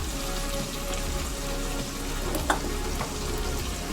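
A rice mixture for bagara rice fries in a pan with a steady, even sizzle and crackle throughout, a single utensil clink partway through, no voices.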